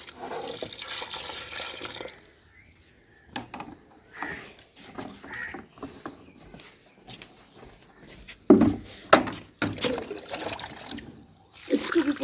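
Water is poured onto potted garlic plants, with uneven splashing, trickling and dripping bursts that come and go, some louder near the end, and a little faint voice in the background.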